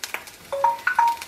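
Kitchen cooking timer alarm signalling the rice is done, a few short beeping tones in an irregular sequence, moderately loud over light background clatter.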